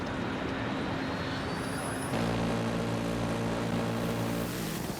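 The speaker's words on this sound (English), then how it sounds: "The jet pulled up to altitude there." Attack jet in the Battlefield 6 game roaring steadily as it climbs to altitude, a loud sustained engine rush with a droning tonal hum joining midway.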